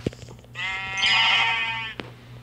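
A sheep bleats once in the video game Craftsman, a long wavering cry lasting over a second, close and clear, with a couple of short clicks before and after.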